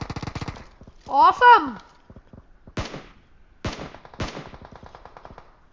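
Video-game gunfire in a gun game mode: several sharp bursts of shots ring out in quick succession, loud against a quieter background, while players talk and one exclaims over the action.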